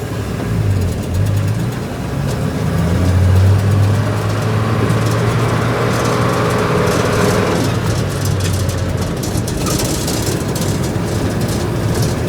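An old Ford F100 truck engine idling high, a steady loud rumble with a low droning hum that holds without pause.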